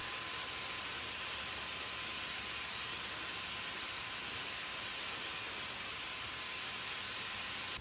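Steady, even hiss of spray paint being applied to a dresser, continuous and close with no pauses or voices throughout.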